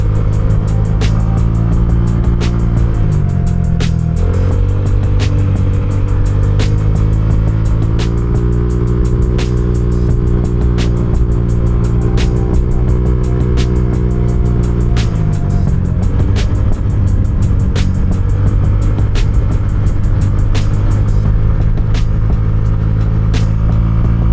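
A Honda Click 125i or Nmax 155 motor scooter climbs uphill on Marilaque, its engine droning loud and close, with the pitch rising and dropping as the throttle changes.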